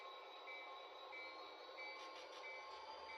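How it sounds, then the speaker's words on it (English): HO scale model GP40 locomotives move a train of coal hoppers through a layout yard, giving a faint, steady mechanical rumble with light repeating ticks and no talk. "The GP40s will break up the train and fill each of the 3 tracks of the yard"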